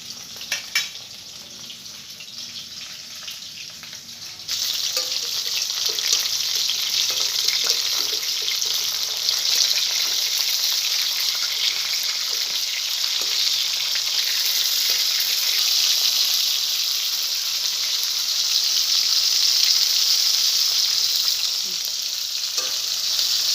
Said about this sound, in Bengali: মাছটাকে আমি ভেজে নিচ্ছি।